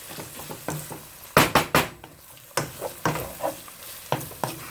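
Chili ingredients cooking in a pot over medium-high heat, with a steady sizzle and fry broken by several loud clustered scrapes and clanks of a spoon stirring against the pot.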